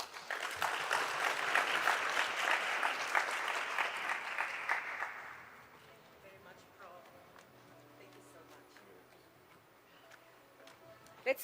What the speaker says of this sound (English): Let's give Prof another warm applause.